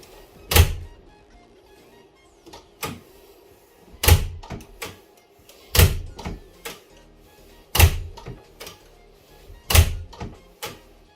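A door fitted with a capacitive touch switch that starts a light or ventilator is worked open and shut, giving five sharp thunks at even intervals, each followed by softer knocks and clicks, fairly close in a quiet room.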